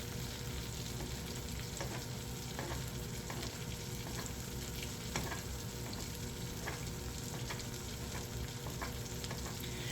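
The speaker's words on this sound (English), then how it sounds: "you're going to baste this until the steak is done" Venison heart bastes in a hot pan with garlic and rosemary, a continuous dense sizzle with soft scraping and spoon clicks recurring every second or so, close and steady without talk.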